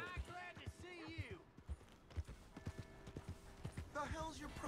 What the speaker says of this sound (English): Here's your horse.